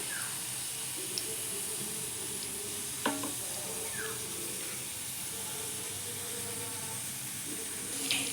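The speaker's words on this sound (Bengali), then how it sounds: "এই দেখো মালপোয়া করা স্টার্ট করে দিয়েছি।" Malpua pancake batter frying in hot oil gives a soft, continuous sizzle and bubbling hiss, with a few faint clinks of a utensil now and then.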